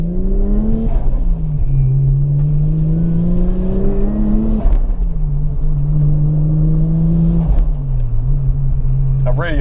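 A 1JZ-swapped turbocharged Lexus IS200 heard from inside the cabin, with engine drone rising and falling through repeated gear pulls and sharp turbo wastegate chatter between them. A brief high whoosh comes at the very end.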